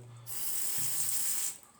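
Water gushes from a tap in a brief, hissing rush lasting just over a second, then stops, at strong pressure from newly soldered pipes.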